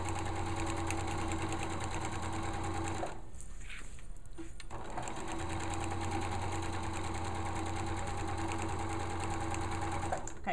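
A sewing machine stitches along a shorts waistband with a steady, close mechanical whir, pausing briefly midway with a few soft clicks before running on evenly.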